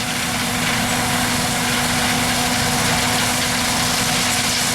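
A John Deere combine engine idles during a white corn harvest, a loud, steady rumbling drone with a constant hum and no break, close by and unaccompanied by voices.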